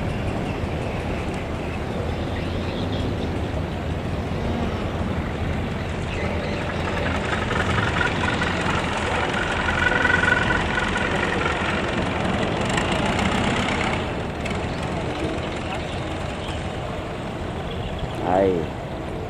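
Fishing trawlers crowd a river in Kien Giang as they set out on the sixth day of Tet, a continuous heavy engine drone rumbling low and steady throughout, with voices faintly heard over it.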